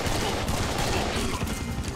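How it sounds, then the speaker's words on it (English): Rocket fire in the shooter game Serious Sam 3: BFE makes a dense, loud barrage of blasts and rumbling explosions that runs steadily for a couple of seconds. "lay down some rocket fire"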